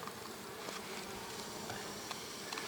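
Dense, steady buzzing of many honeybees around hives and an oilseed rape field, a continuous distant swarm drone without pause, fairly faint.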